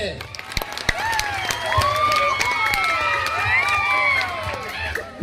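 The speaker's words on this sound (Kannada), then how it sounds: "ಚಪ್ಪಾಳೆ ಹೊಡೆದವ್ರಿಗೆ ಅನಂತ ಧನ್ಯವಾದಗಳು" Audience applause and cheering at a comedy talk, with loud clapping and crowd shouts mixed with a voice over the clatter, lively and continuous.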